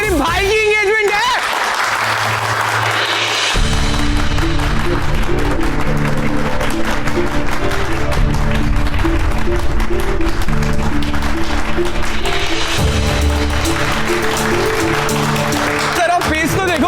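Guests at an engagement celebration in a TV drama applaud loudly and continuously, the clapping layered under sustained dramatic background music.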